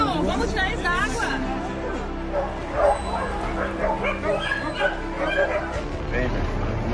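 A small dog barks and yips repeatedly at close range outdoors by the water during a jet ski outing, its high, excited calls mixing with people chattering and talking nearby.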